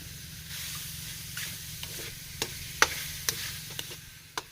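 Fatty pork frying in its own rendered fat for Bicol-style spicy dinailan, a steady close hiss and sizzle with scattered sharp pops and spits, no talk.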